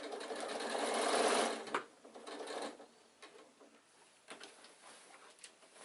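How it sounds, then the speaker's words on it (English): A sewing machine runs a steady burst stitching the seam of an insulated picnic bag, then slows to a stop, followed by quieter handling of fabric and a few soft clicks. "sew till you can feel the seam"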